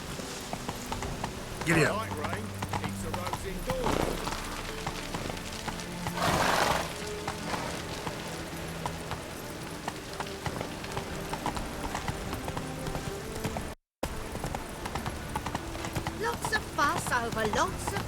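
Rhythmic hoofbeats of a horse in The Witcher 3 clop steadily throughout, with a brief whinny and music, while people talk over the top.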